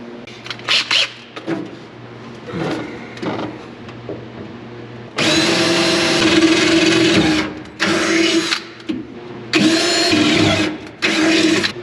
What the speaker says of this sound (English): I just gotta drill some new holes for this one